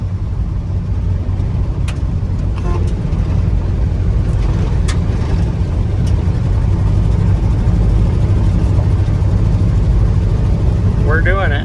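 The engine of a 1975 International 200 pickup truck, an old field-find with old tires, drones loudly and steadily while driving at about 30 miles an hour, a heavy low rumble with someone talking over it.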